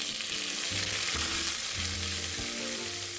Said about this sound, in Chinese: 小火放入姜片爆香， 接着再加入辣椒干